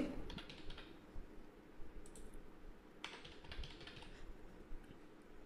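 Quiet keyboard typing, a few scattered bursts of soft key taps against a low background hum, with no one talking.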